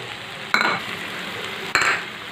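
Tomato curry with tamarind, coriander powder and salt being stirred in a pan, a soft steady sizzle with two sharp scraping clinks of a spoon against the pan, close and alone.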